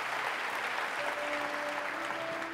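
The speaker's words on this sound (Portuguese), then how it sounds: "Pode aplaudir Jesus." Soft, steady applause from a congregation inside a church, diffuse and fairly distant, with a faint sustained musical tone rising beneath the clapping partway through.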